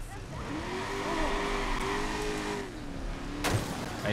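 A car's engine hums and rises in pitch as it drives through the streets of Watch Dogs, moderately loud and steady, ending with a sharp knock.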